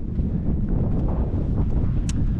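Wind roars across the exposed winter summit of The Cobbler in the Scottish mountains, buffeting the microphone in a steady, loud rush with no voices.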